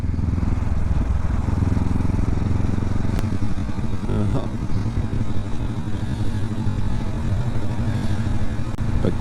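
A group of motorcycles rumbles past nearby, a dense, continuous engine roar with shifting tones.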